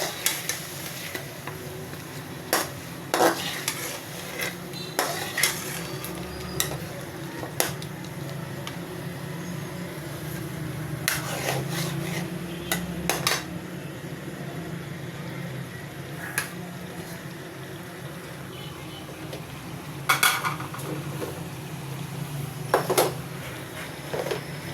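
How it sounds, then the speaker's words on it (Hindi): Tomatoes are stirred and fried into an onion masala in a pan, making a soft, steady sizzle broken by sharp clinks and scrapes of the spoon against the pan at irregular intervals. "अब इसमें शामिल करते हैं टमाटर डाल के मिक्स करेंगे,"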